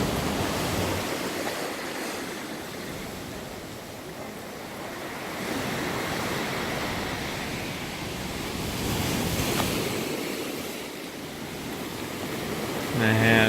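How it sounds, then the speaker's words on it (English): Ocean surf rolling onto a Canary Islands shore, a steady broadband wash of breaking waves with wind noise on the microphone, swelling and easing in slow surges, with a stronger push near the end. "those waves coming in"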